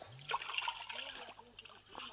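Water gently disturbed and stirred, with soft trickling and small splashes in a staged outdoor scene, a faint sloshing that runs continuously for about two seconds.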